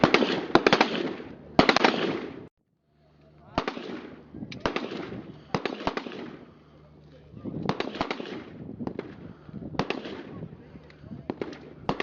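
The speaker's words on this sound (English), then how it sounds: "there's the firing range. An ANCOP's got to be able to shoot." Rapid volleys of gunfire ring out at a police training firing range in Adraskan, Afghanistan, with repeated sharp shots in clustered bursts separated by brief pauses, moderately close and loud.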